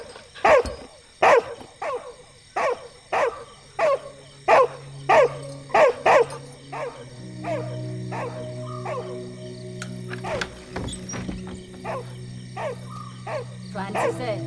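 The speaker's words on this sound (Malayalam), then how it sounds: "കള്ളന്മാരെ കാണുമ്പോൾ കുരയ്ക്കുന്നു" A dog barks in a steady, evenly spaced series of loud, close barks, then the barking grows sparser and irregular under other background sound, with voices in a Malayalam film scene.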